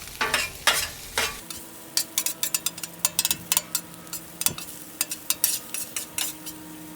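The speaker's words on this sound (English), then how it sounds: "Just kind of separating up this rice since it's all clumped together, cold." Cold, clumped chicken fried rice sizzles on a Weber Slate griddle as a metal spatula breaks it apart, giving a steady fry under rhythmic, sharp scraping and tapping clanks.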